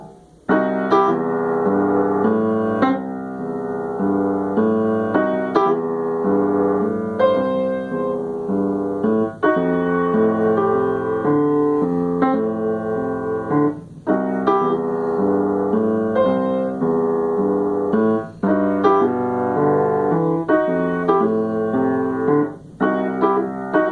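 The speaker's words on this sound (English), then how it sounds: "And that's your basic blues with the improvisational motive" Solo piano plays a steady twelve-bar blues progression in C with bass and chords, full and close for the whole stretch, no one speaking.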